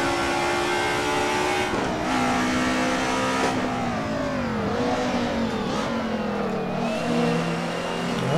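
Group A DTM race car in Assetto Corsa at the Nürburgring: the engine drones loudly and steadily, its pitch rising and falling as the car eases off and gets back on the throttle, with no speech.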